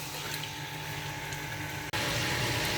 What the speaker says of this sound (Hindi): मैं चिकन को अच्छी तरह से फ्राई कर रही हूँ